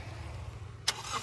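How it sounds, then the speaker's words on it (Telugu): A 2012 Toyota Etios GD diesel starts on a single crank. A quick sharp catch comes over a low, quiet engine rumble, all within about a second. "ఇప్పుడైతే మీకు ఒకసారి వెహికల్ స్టార్ట్ చేసి చూపిస్తాను"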